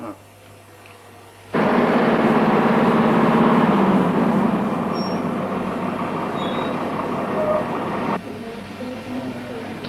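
Buses and a tanker truck roll up to a parked plane, heavy engines swelling into a loud, sustained rumble with a hissing tone and a high squeal, then easing back to a quieter hum.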